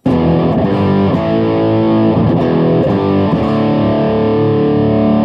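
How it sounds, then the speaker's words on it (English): Heavily distorted overdriven electric guitar chords through a Boss MS-3 with parallel overdrive blending ring out loud and continuous, thick and saturated, with a few rhythmic strums and no voices. "it's hard to hear with this much distortion"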